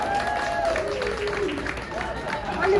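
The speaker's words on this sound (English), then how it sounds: "let's all clap at least here." Audience applause at an art exhibition celebrating a retrospective, a fairly steady wash of clapping with crowd murmur and voices talking over it.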